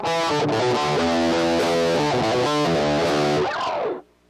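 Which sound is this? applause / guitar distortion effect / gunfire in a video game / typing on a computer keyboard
guitar distortion effect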